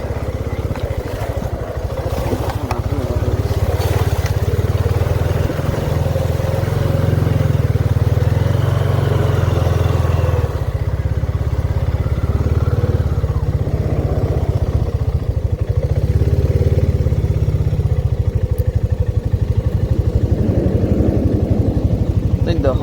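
A Honda motorcycle engine runs steadily throughout while being ridden, a low, continuous drone with a heavier surge in the middle, loud and close, and it is running low on gas.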